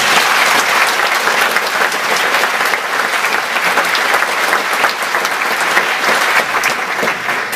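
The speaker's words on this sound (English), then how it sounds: "So I would just like to give her a round of applause." An audience at a live Disclosure Project presentation applauds steadily and loudly for the whole stretch, a dense wash of many hands clapping with no pauses and no talk.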